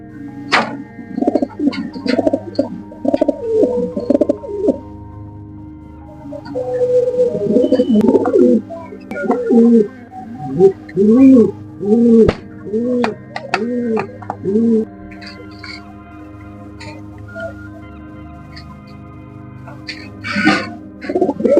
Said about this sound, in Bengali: এই যে কবুতরটি বসেছে এটা হচ্ছে কি নর